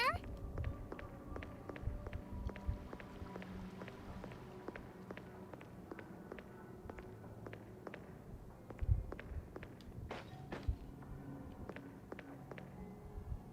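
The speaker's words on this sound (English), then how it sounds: "Oh no, that's just my footsteps." Footsteps in the video game Zanki Zero, a quick, regular run of sharp taps against a faint ambient background, moderately quiet, with a few slightly louder steps scattered through.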